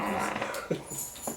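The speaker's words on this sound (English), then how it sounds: "That's the dogs going out to avoid an accident." A dog makes a brief low growl and a couple of soft whimpering noises, close by, with faint voices in the background.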